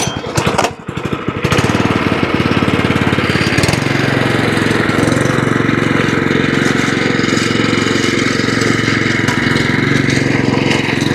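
A lawn mower cuts a putting green, its engine running loud and steady close by for the whole stretch after a brief sputter at the start, with no talking over it.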